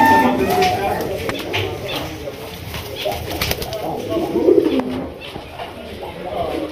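Adult breeding-pair pigeons coo in low, throaty rolling calls with occasional wing flaps nearby, while someone talks over them.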